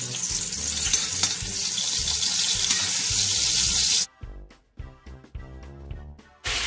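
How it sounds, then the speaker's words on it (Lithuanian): Beef frying in butter for goulash stew, a loud steady hiss and sizzle for about four seconds, then cutting off to quieter clinks and intermittent sizzling. "Įdedam dar kelis šaukštus sviesto. Apkepinam jautieną."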